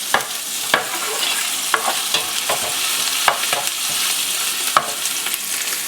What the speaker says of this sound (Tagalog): ang i-achieve natin pag nagigisa tayo, maging medyo golden brown yung ating bawang